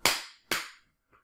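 Two sharp, loud hand claps ring out about half a second apart to trigger a robot, each with a quick decaying tail, followed by a faint small click.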